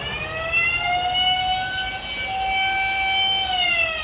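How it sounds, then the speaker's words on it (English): A wireless fire alarm, triggered by pressing its button, sounds a loud, continuous electronic wail with a slowly rising and falling pitch. It is steady and close, with no speech over it. "You can see we pressed it and the alarm is here."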